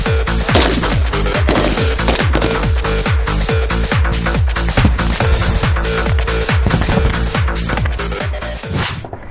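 A Kalashnikov assault rifle fired at a shooting range, loud sharp shots in a rapid, regular series of bursts with ringing echoes, close and continuous for the whole stretch.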